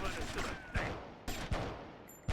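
Several revolver shots fired in GTA Vice City, three sharp cracks spaced about three quarters of a second apart, set against a busy game soundscape of engine and ambient noise.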